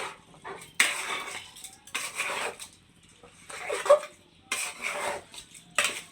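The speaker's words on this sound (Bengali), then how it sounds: "এখন আবারও যে মাংস আলু চাল একসাথে নেড়ে চেড়ে দিব" Meat, potatoes and rice for biryani being stirred together in a metal pot: about five separate bursts of spoon scraping and rasping against the pot, close and fairly quiet, with short pauses between strokes.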